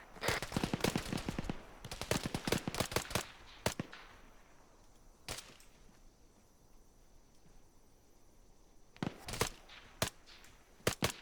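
Gunfire in the Task Force Athena desert campaign video game: rapid bursts of automatic fire, then a lull with a single shot, then more close, loud bursts near the end.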